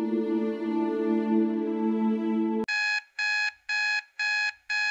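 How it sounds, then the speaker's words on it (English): An alarm clock in the mystery adventure game Amber's Blood rings in five loud, evenly spaced electronic beep bursts, coming right after a sustained tonal chord that cuts off abruptly. "Oh no! I forgot to turn off the alarm clock."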